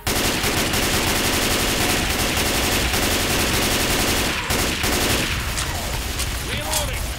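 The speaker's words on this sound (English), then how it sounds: "Unloaded an entire clip into him" Sustained rapid automatic gunfire pours into a Tank in a zombie co-op shooter, dense and loud throughout with brief pauses near the end.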